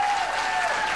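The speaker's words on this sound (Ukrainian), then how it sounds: "Аплодисменты" A comedy club audience applauds in a dense, steady burst of clapping, loud and close, filling the whole short moment with no voices over it.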